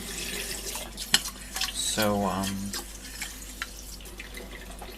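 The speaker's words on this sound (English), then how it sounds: "So I will be washing my rice until the water becomes more or less clear." Tap water splashes while rice is washed in a sink, a soft running trickle with a few knocks and stirring sounds and one brief spoken word.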